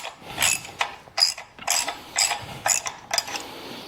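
Repeated short clicking bursts from a ratchet tool loosening the clamp on a Harley-Davidson slip-on muffler, about eight quick ratcheting strokes in an uneven rhythm, close and fairly clear with no talking.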